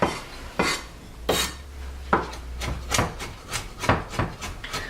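A knife slices through walnuts on a cutting board, giving a series of crisp cuts and knocks, loud at first and then quicker and lighter, close up with no talking.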